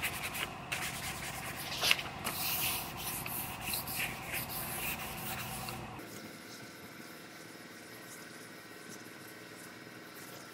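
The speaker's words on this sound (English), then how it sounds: "You put your sandpaper on a scuff pad, it sticks to it, and then you can get up in here" Hand sanding into tight areas of a vehicle panel being prepped for paint, using hook-type sandpaper stuck to a scuff pad: a close, steady rasping scrub with back-and-forth strokes for about six seconds, then stopping into quiet room hum.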